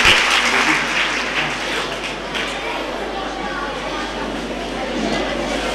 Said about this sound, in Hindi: तालियां बजवाना चाहता हूं